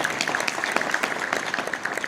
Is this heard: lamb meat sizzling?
no